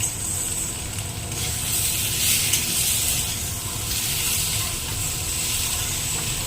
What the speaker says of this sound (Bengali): এরপরে সিদ্ধ করে রাখা আলু যেটা দিয়ে দিলাম, দিয়ে ভালো করে কষাতে হবে।